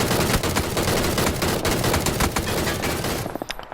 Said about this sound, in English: just run around shooting people